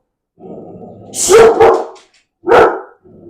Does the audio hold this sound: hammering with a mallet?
no